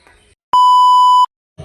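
A single clean electronic beep from a phone call sounds loud and steady for under a second, with silence before and after and faint background noise at the edges.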